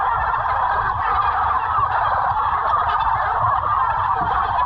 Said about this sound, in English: they will probably attack us a little bit more today